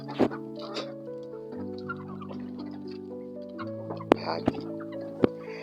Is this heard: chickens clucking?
yes